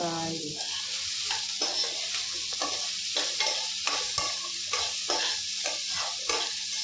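Finely chopped onions fry in a hot pan for a potato-cauliflower dish, with a steady sizzle and regular spoon scrapes and stirring clinks close by, no voices.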